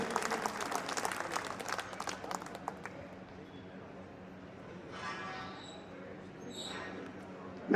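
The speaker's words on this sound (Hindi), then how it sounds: "एक बार जोरदार तालियों से स्वागत करें प्लीज।" Applause from an audience at a court felicitation ceremony in Rohini, strong and dense for about three seconds, then thinning into a low murmur with faint voices.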